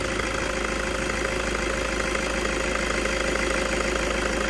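Diesel car engine idling with the bonnet open, a steady close rattling hum with no variation and no voices.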